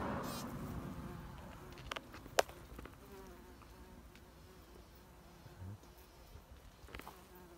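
Bumblebee buzzing on a flower while collecting pollen: a brief louder buzz at the start, then faint intermittent insect droning with a sharp click, heard close but quiet.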